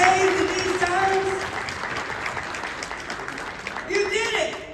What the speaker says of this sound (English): Give them a round of applause to have your own building in these days and these times.